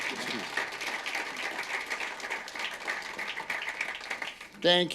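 An audience gives a round of applause for a speaker at a personal branding talk, a dense steady patter of clapping across the whole stretch, with a voice briefly rising near the end.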